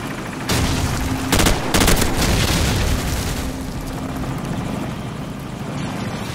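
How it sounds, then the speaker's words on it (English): In the video game Call of Duty 4, a support helicopter's rotor chops steadily through a busy battle soundscape, with sharp bursts of gunfire and booms punching in early, all loud and close. "Helicopter support standing by."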